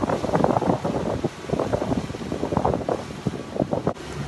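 Wind buffets a microphone aboard a steam boat touring the waters of Abu Dhabi, loud gusty rumbling surging and easing in irregular waves throughout.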